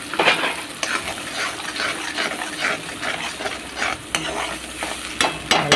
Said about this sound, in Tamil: நல்லா கிளறுங்க.